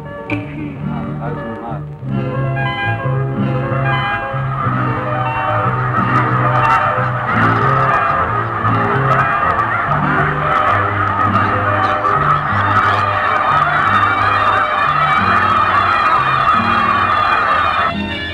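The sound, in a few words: migrating birds calling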